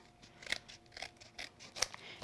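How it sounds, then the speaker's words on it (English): Scissors snip through card in a few quick, quiet crisp cuts, spaced irregularly, close up in a quiet room. "Keeping your scissors angled."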